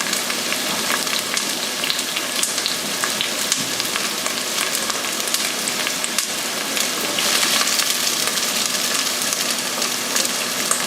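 Onions tipped into smoking-hot light oil in a soup pot sizzle loudly and continuously, a dense, even frying hiss held close up with no talk.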